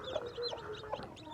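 A mother hen clucks softly to her tiny newly hatched chicks, a run of short, close, low clucks repeating steadily without any talk.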